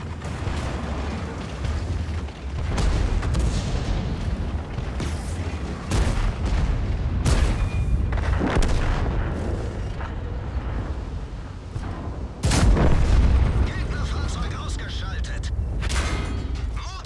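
In World of Tanks gameplay with an E100 heavy tank, cannon shots boom out repeatedly, several heavy blasts spaced across the clip beneath continuous, agitated talking.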